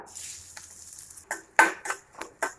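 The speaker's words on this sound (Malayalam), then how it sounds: "ഇതിലേക്ക് നമ്മൾ ആദ്യം തേങ്ങാക്കൊത്ത് ഇട്ട് കൊടുക്കാം" Pieces of coconut dropping into hot coconut oil in a pan for a beans stir-fry. A few short bursts of sizzling come with clattering and stirring after a quieter start, close by, and no one speaks.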